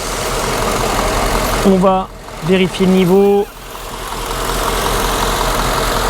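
A warmed-up Mercedes engine idles with a steady low rumble throughout, while someone speaks briefly over it in the middle.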